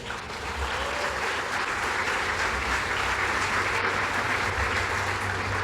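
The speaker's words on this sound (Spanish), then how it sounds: "¿Cuántos aplauden a Cristo?" Congregation in a Spanish-language church service applauding, a dense continuous roar of many hands clapping that holds steady and fairly loud throughout.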